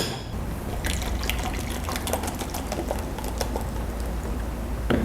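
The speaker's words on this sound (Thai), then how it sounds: "เดี๋ยวเรา ใส่โซดาเลย" Soda fizzes and splashes as it is poured into an iced coconut blue soda drink, a continuous close liquid rush with crackling bubbles and a few ice-like clicks, no talk.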